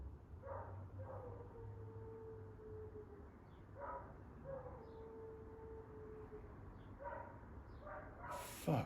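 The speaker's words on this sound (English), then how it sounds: "Fucking neighbour's dog." A neighbour's dog barks and yips in separate bursts at a distance, a few short calls repeated every couple of seconds over a steady low hum from a garage where a K24 engine is being worked on.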